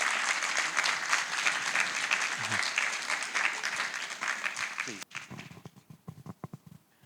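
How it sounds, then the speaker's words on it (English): Audience applause at a celebration of the Srimad Bhagavatam, dense clapping that fills the first five seconds and then thins into scattered claps and murmuring voices. "Big round of applause for Keshava Maharaj, please."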